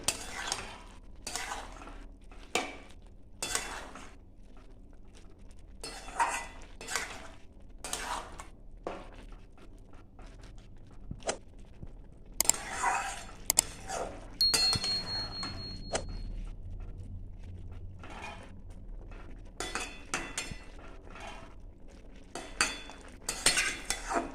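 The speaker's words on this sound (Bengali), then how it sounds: "এবার নাড়িয়ে দেবো।" Shukto, a Bengali mixed-vegetable curry, is stirred in a pot after a little ghee goes in: repeated spoon scrapes and metallic clinks against the pot over a faint sizzle, close and without talk.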